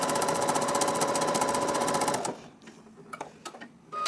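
A sewing machine fitted with a quarter-inch foot stitches a quilt seam in rapid, even bursts for about two seconds, then stops, leaving faint clicks and handling noises.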